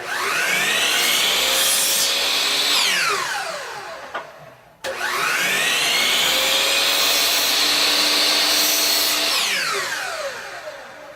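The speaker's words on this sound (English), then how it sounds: "I'm going to take this piece and this piece back to the saw right quick and just make a small trim on them" Power saw trimming small wood pieces in a woodworking shop: two loud whining cuts, each rising as the blade bites and falling away as it finishes, with a brief pause between them.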